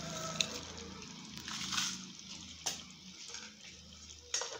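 Water is poured into a pot of tamarind curry made with black-eyed peas, a quiet splashing flow with a few louder bursts in a home kitchen.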